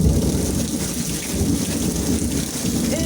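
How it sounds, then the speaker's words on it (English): Steady heavy rain pours down during an outdoor thunderstorm with low rumbling thunder, a continuous dense wash of sound with no voices. "Y'all see that thunder?"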